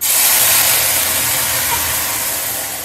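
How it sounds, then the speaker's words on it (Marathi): Water boiling hard in a pot on a gas stove, a loud continuous rushing hiss with a low bubbling rumble underneath, steady throughout and fading only slightly at the end. "आता चांगला उकळला"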